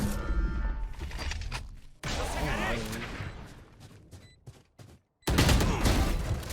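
Shotgun fire from the Valorant video game, heard as sharp, loud bursts and crashes dense with game effects, breaking off briefly near the end before another heavy blast.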